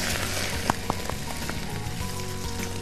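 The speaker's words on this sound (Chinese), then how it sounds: "好，现在鱼可以下锅" A crucian carp lowered into hot oil gives a loud, dense sizzle and spatter with a few sharp pops near the start. It stays steady and close throughout.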